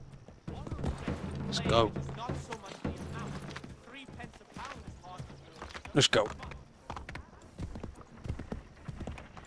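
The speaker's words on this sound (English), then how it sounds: "I can call my horse, can't I?" Horse hooves clip-clopping in the Assassin's Creed 3 video game, a steady run of close hoofbeats with a snort or whinny, while someone talks over the action.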